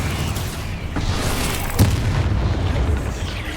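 A spell-blast explosion from the Confringo curse in the Hogwarts Legacy video game, one sharp boom midway standing out over a dense, rumbling game soundscape.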